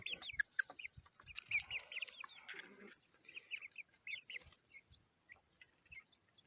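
Young chicks, a breed resembling naked-neck fowl, newly moved from a brooder into a cage, give busy high cheeping and soft clucking calls in overlapping bursts throughout, close and moderately loud.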